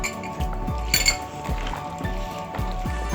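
Fruit chaat being mixed in a bowl with a spoon: repeated clinking taps against the bowl roughly every half second, with faint wet squishing between strikes and no talk.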